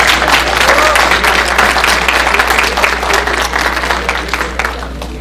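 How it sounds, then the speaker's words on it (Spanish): A conference audience breaks into loud, dense applause that fills the room and fades slightly over about five seconds, with some voices mixed in. "Vamos a darle un aplauso, por favor."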